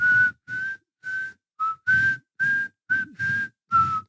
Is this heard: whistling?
yes